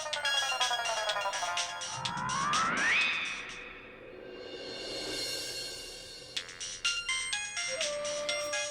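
A bright electronic ringtone melody plays in repeated phrases, with a sweeping whoosh in the middle before the tune resumes.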